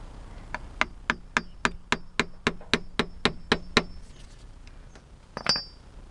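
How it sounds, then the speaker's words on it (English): A rapid, regular series of about a dozen metallic hammer strikes on a gearbox shim of a Skoda Fabia vRS with an 02M gearbox, close and ringing, followed by a brief scrape. "got a normal hammer."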